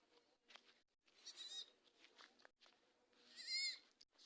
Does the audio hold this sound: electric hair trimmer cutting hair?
no